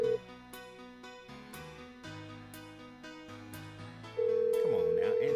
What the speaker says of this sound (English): Oh, I'm dialing the wrong number.